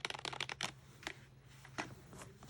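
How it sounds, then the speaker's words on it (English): Quick bursts of key presses on a Logitech K120 USB wired keyboard, clustered clicks at first, then sparser taps with short pauses, close and fairly quiet. "for keyboard typing, it's not bad, it's good."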